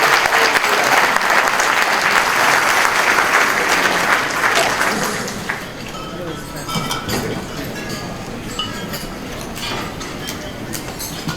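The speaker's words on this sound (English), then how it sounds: "let's give him a round of applause" An audience at a lecture event in Los Angeles claps loudly at first, then the applause thins to scattered clapping with murmuring voices and a few clinks in the room.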